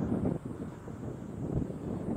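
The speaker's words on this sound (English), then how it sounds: "it's getting quite windy now" Wind buffets the microphone in low, rumbling gusts that swell and fade, loud and close, with no other sounds, outdoors in Connah's Quay, North Wales.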